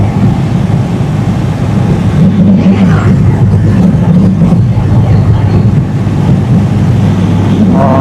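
A Bajaj Pulsar N160 motorcycle cruising on an open road at about 80 to 90 km/h gives a steady, loud engine drone mixed with rushing wind noise throughout, with a faint voice briefly audible.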